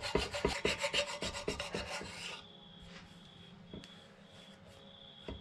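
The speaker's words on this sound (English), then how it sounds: "You want to use the finest file you can find. I'm going to draw that file over" A fine file is drawn over high spots on a Land Cruiser FJ40 front wheel hub. About a dozen quick, rhythmic metal rasping strokes sound up close, then a quieter stretch follows with a few faint scrapes and taps.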